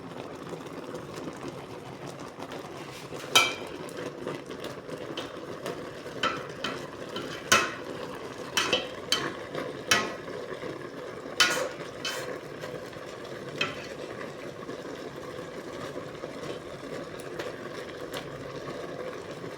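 Dried salted fish (daing) frying in a pan, a steady soft sizzle with scattered sharp pops and crackles spread across the clip, fairly quiet and close.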